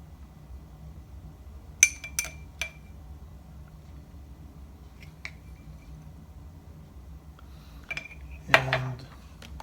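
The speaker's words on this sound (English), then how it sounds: "Now I will add a sprinkle of walnuts on top" Walnuts are sprinkled over moustalevria, Greek grape-must pudding, giving a few sharp, close clinks and light ticks against a dish at irregular spacing, with a louder rattling scatter near the end over faint background hum.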